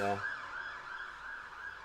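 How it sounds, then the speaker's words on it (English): A siren wails steadily at a moderate distance, its pitch wavering slightly as it passes, with no talking over it. "little siren going past"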